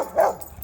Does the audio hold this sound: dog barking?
yes